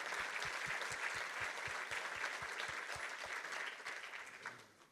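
An audience claps steadily for about five seconds, a dense, even burst of applause that tapers off at the end.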